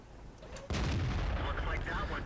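A tank cannon fires once in World of Tanks, from a Centurion 7/1 Tier 9 medium tank shooting HESH rounds: one sudden, loud, close blast that rolls into a heavy, sustained rumble.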